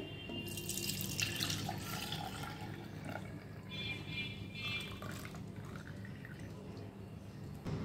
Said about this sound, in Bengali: এবার দুধটা আমি ঢেলে দিচ্ছি মাটির হাঁড়িতে।